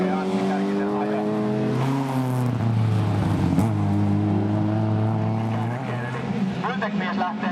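A race car pulling away on a lap, heard as a loud, continuous engine note rising in pitch and then settling, with a voice commentating over it throughout.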